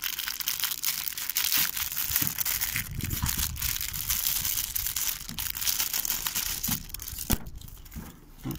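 Continuous crinkling and tearing of plastic as the packaging of a bumper protective film is opened, close and fairly quiet, with steady rustling throughout and a few sharper crackles.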